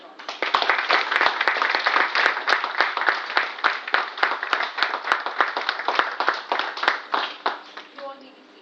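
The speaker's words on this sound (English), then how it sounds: "Please give them a huge round of applause." A crowd at a Toastmasters club meeting claps enthusiastically for the club, a close, crisp flurry of many hands that gradually slows and thins toward the end, with a voice entering briefly at the close.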